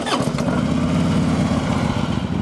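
A new 2014 Harley-Davidson Tri Glide trike idles steadily with a deep, loud, pulsing engine throb that holds constant for the whole stretch, with no talk over it.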